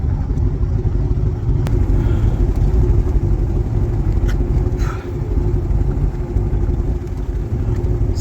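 A 1974 Lund jet boat's engine idles at a steady low rumble while the boat creeps forward, close and continuous, with a few faint clicks on top and no talk.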